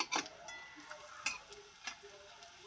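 Jute leaf fritters fry in hot oil in a home kitchen, a soft steady sizzle with a few brief stirring scrapes and clinks of a utensil against the pan.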